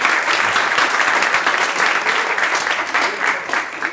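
Steady applause from an audience at an open mic night in Dearborn, dense and continuous throughout with no voices over it.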